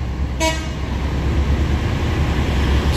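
A bus pulling into a roadside rest area restaurant, sounding a short horn toot over a constant low engine rumble.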